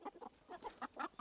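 A Korean native chicken with black feet gives a quick run of about six soft, close clucks in a steady, choppy rhythm, faint and alone.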